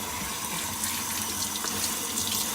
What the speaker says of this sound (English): We're going to take our potatoes and rinse them off. Give them a quick wash and rinse.